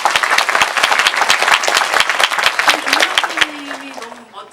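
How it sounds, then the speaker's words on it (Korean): Audience applause at a Korean film talk event for the movie Parasite, dense close clapping from a large crowd that fades out toward the end, while voices talk over it. "박수 부탁드립니다"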